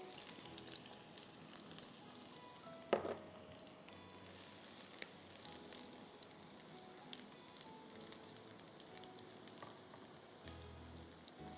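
Garlic frying in a pan, a faint continuous crackling sizzle throughout, with a single sharp clink near the start and no talk.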